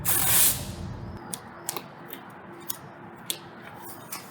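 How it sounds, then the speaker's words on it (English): Tape being applied to new plastic and metal car parts before painting: a loud, brief rip at the start, then sparse light clicks and taps nearby, with no talking. "So I'm just taping it up right now."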